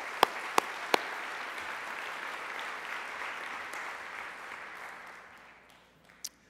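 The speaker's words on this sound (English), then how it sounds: "So let's applaud them." Audience at a conference opening plenary applauds, full steady clapping that gradually fades out toward the end, with a few sharp knocks near the start and one more at the close.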